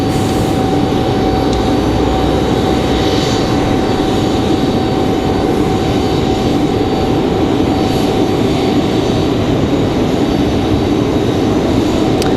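Endeavor CRJ 900LR regional jet arriving at Raleigh-Durham International, a loud continuous jet roar with a steady whine, dominating the scene without talk.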